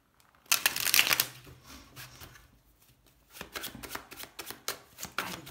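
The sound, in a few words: laying out six tarot cards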